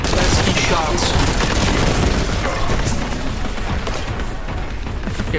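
Enemy fire in Warhammer 40K Boltgun pounds out as a dense, loud barrage of rapid shots and booms, continuous and chaotic throughout.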